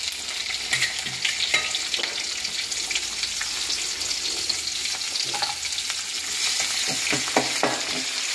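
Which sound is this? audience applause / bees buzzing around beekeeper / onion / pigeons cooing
onion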